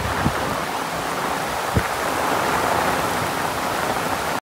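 Steady heavy rain hisses continuously, a dense wash of noise with a couple of brief knocks early on.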